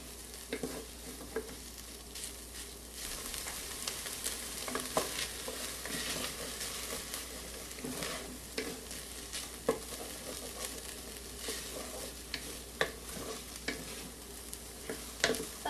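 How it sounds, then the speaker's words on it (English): A wooden spoon scrapes and stirs softened onions sautéing with a splash of water in an Instant Pot, giving a steady low sizzle with repeated scraping strokes close by. "we're scraping that up and loosening it with our water"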